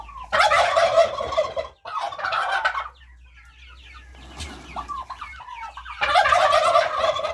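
Loud, rapid turkey gobbles burst out close by, two calls at the start and another at the end, with softer clucking fowl in between.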